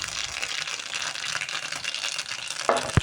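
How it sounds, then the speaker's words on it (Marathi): Mustard seeds and asafoetida tempering in hot oil for a pumpkin kofta curry, giving a dense crackling sizzle that runs throughout, with a couple of sharper pops and spatters near the end. "मोहरी तडतडली आपली"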